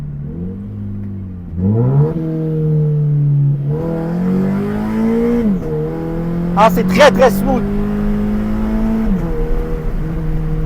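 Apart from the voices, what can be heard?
Scion FRS engine revving during gear changes, rev limiter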